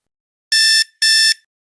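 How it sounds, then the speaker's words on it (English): An airport security scanner alarm going off, two loud electronic buzzer beeps in quick succession, close and clean against silence. "Sorry, the alarm went off."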